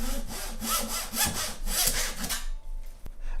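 Handsaw cutting through wood at a marked bevel line while building an acoustic guitar, a steady rhythm of close, loud rasping strokes for about two and a half seconds before stopping, followed by a single faint tap.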